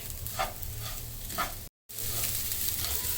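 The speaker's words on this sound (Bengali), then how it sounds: "এভাবে প্রায় তিন চার মিনিটের মতন চালটা ভেজে নিতে হবে" Rice for pulao frying in a pan, a steady close sizzle with a few soft scraping stirs, briefly cut to silence partway through before the sizzle resumes.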